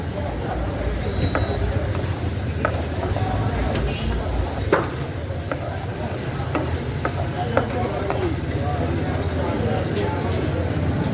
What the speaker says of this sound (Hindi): हमने ऑयल डाला अभी उसमें, उसके बाद प्याज डाला है। ये हमारा प्याज ब्राउन हो रहा है।